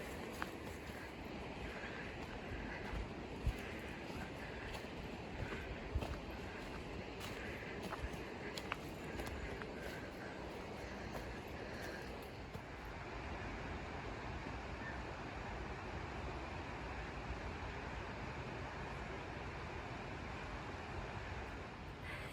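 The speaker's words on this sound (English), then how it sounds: "The Linn of Tummel is a waterfall. Or just down on my left hand side." Rushing water at the Linn of Tummel waterfall near Killiecrankie, Scotland, a steady broadband roar heard from nearby with some wind buffeting on the microphone and faint footsteps.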